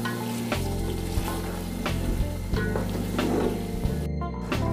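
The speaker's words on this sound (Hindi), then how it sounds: "हमने पाए हमारे तकरीबन 2 से 3 मिनट हमने इनको भून लेना है इसके मसाले में" Paye trotters frying in masala in a pan, a loud steady sizzle with repeated stirring scrapes throughout, no speech.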